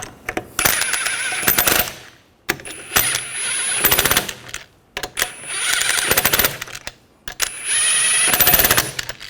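Four bursts of an impact wrench snugging lug nuts onto a rear wheel of a 2013-2019 Ford Escape, each loud rattling hammer lasting about a second with short pauses between, close by and without talk.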